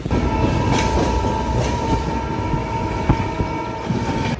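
A superfast train from Gandhidham to Bandra rumbles loudly and continuously along the rails at night, with a steady low roar, a faint whine and occasional clicks from the track.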